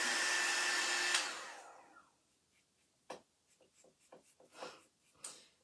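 A heat tool blows loudly and steadily for about a second while drying a small craft paint brush, then fades out, followed by scattered scraping and rubbing noises close by.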